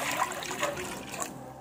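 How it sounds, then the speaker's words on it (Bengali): Water is poured into a kadai set over a lit stove, making a soft, brief trickling splash that is faint and close. "এবার জল দিয়ে দিচ্ছি,"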